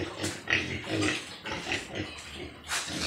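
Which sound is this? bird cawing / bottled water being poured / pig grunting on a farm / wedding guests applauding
pig grunting on a farm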